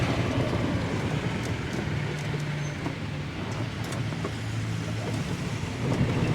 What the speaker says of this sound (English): You have to wait for all the vehicular traffic.